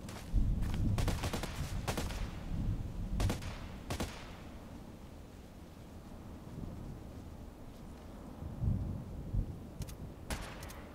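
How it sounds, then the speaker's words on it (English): Spaced single gunshots from a player's rifle in a shooter game give loud, sharp cracks with rumbling echoes, several close together early on, then a quiet gap and two more shots near the end. "Problem is, I'm shooting now, he will hear me"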